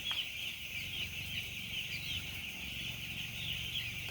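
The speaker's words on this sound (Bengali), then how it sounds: "আমাদের এই কটা মুরগি তুলেছি ক্যারেটে।" Broiler chickens gathered in crates on a poultry farm, a dense chorus of soft clucks and high chirps over a low hum, continuous and fairly faint, with no talking.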